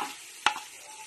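Ginger dropped into a hot pan for tinola gives one sharp sizzling burst, then a faint steady frying hiss close by with no talking.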